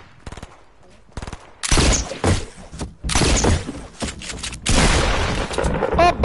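Gunfire in the video game Fortnite, with scattered single shots first, then loud, rapid bursts of automatic fire and booming impacts that come close and heavy in repeated volleys.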